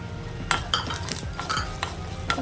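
Chopped ginger, green chillies and cashew nuts fry in a pan while a spoon stirs them, giving a soft sizzle with sharp metallic scrapes and clicks at irregular intervals.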